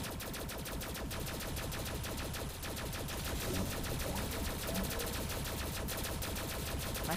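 Rapid automatic gunfire from the player's weapon in the video game Masao 2, set in Lou Lan City: a steady, unbroken stream of quick repeated shots mixed with game music, moderately loud and continuous.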